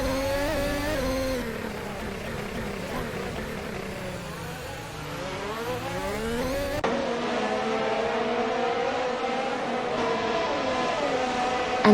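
Formula 1 race car engine in a racing video game as it exits the pits, a loud continuous engine whine whose pitch dips then climbs steadily, shifting abruptly partway through, holding a high sustained drone to the end.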